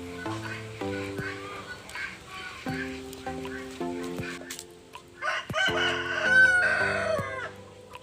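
Chickens and roosters on a farm in Bautista, Pangasinan, crowing and clucking in overlapping calls, with repeated cackles and a longer crow toward the end, fairly close and lively.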